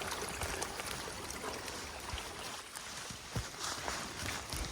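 A forest waterfall, set among mushroom-rich woods, rushes in a steady, faint broadband wash with small splashy variations throughout.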